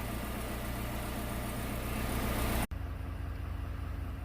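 A Chevy truck with a newly fitted Jasper engine idles steadily after its first start, giving a constant low rumble. The sound cuts out briefly, then the idle resumes at a slightly lower, smoother level.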